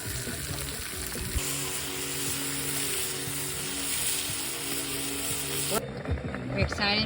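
Big potato pieces frying in a pan at a lakeside state park campsite, a steady close sizzle and crackle that drops off sharply near the end, followed by a few light clinks.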